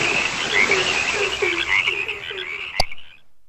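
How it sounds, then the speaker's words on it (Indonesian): A chorus of frogs croaking in repeated, rhythmic calls, fairly close and clear, used as a sound effect, ending with a sharp click before fading into silence. "Maka bermunculanlah katak-katak lalu menutupi seluruh"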